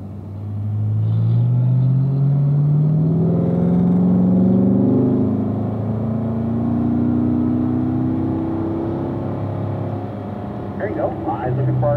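A Corvette driving down a race-track straightaway in fourth gear, its engine droning loud and close with a rising then steady pitch; a voice talks over it throughout.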